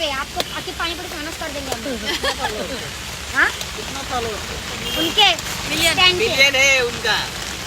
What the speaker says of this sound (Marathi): इकडं काय चाललंय पाऊस बघा